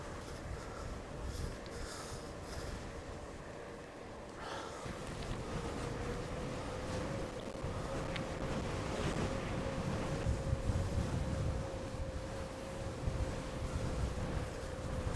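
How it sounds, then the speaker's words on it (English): Strong wind buffets the microphone of a cyclist climbing the Wrynose mountain pass in the Lake District, a constant loud roaring rumble with gusty swells and no speech. "it's blowing a hurricane right in my face"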